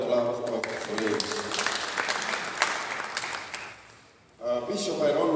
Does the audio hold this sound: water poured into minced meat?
no